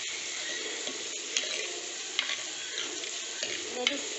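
Dried mackerel curry with green mango and tamarind is stirred in a pan, giving a steady hissing sizzle with soft scraping strokes of the spoon close by. No one speaks.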